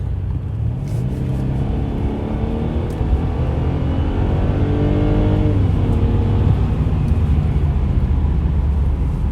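A 2017 Mercedes E300 engine revs up steadily, its pitch climbing and falling in a continuous loud drone, heard from inside the vehicle with road rumble underneath.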